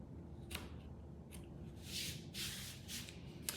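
Scissors snip along the bottom edge of a sewn Henley baby bodysuit, several short crisp cuts spaced across a quiet indoor room, fairly close and soft with no talk.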